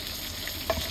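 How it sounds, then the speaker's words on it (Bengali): Fish heads, from a katla fish, frying in hot oil give a steady, close sizzling hiss throughout, with a short clink of a utensil near the end. "ওদিকে মাছ কিন্তু এখন মুন্ডু ভাজাভাজি চলছে।"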